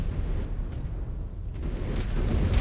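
An enemy mech explodes in MechWarrior 5: Clans, a loud, sustained rumbling blast that swells and stays heavy for a couple of seconds.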